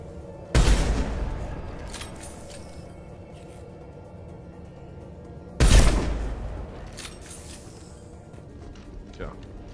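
Gunfire in the video game Mass Effect 2: two heavy, booming shots about five seconds apart, each with a decaying tail, while someone talks between them.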